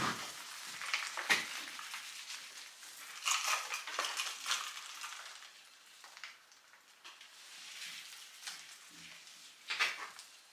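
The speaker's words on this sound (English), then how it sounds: "I'm just going to put a little bit of soil on the top, just a little sprinkle" Soil sprinkled over freshly sown seeds in a spring garden, soft gritty patters and rustling scattered in irregular bursts, close and quiet.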